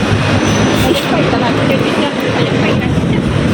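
A steady, loud rumble from inside a moving train in Thailand fills the clip, with continuous low-frequency rolling noise and faint voices beneath.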